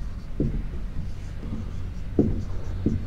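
Chalk scraping across a classroom board during a Hindi-medium Class 10 social science lesson, a few short scratchy strokes separated by pauses, fairly close, with low room noise and no speech.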